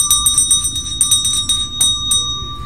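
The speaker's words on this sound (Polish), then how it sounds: "dzwonki." A small bell rings in quick repeated strikes, bright, close and loud, with the rings clustering in bursts before fading at the end.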